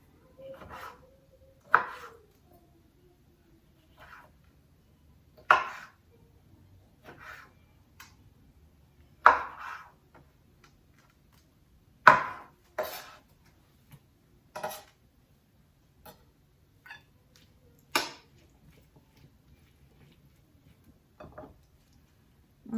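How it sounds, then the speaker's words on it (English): Knife slicing olives on a cutting board in a home kitchen, a series of crisp, separate chopping taps at an irregular pace, close and fairly loud with no talk. "Just slice the olives."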